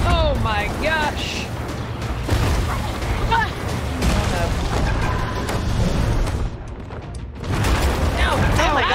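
Cannons fire from pirate ships in the video game Sea of Thieves, several heavy booms crashing in a rough sea battle, mixed with excited shouting from players talking over the blasts.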